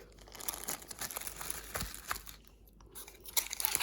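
Close, crackly crinkling of plastic, rustled in irregular bursts with brief pauses, fairly quiet with no talking.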